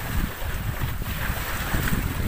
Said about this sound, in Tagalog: Medyo malakas lang yung alon ngayon eh.